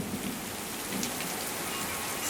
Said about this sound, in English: it was really hard raining